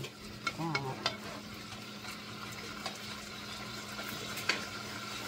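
Pork browning in a pan, a faint steady sizzle with a few clicks and scraping stirs, close but quiet, with a brief murmur of a voice near the start.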